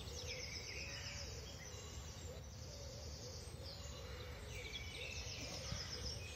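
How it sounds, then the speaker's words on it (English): Birds calling outdoors, with repeated chirps and song phrases, plus a low hooting, faint and distant over a quiet ambient background. "I think the birds are providing all the noise we need."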